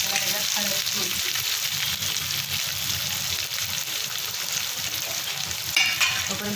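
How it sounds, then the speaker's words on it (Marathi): Chopped coriander and onion fry in hot oil with turmeric for a garlic-coconut chutney, a steady close sizzle with occasional stirring scrapes in the pan. "कोथिंबीर आणि कांदा चांगला तळून घ्यायचा."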